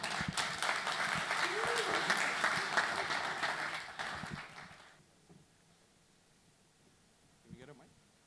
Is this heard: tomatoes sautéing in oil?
no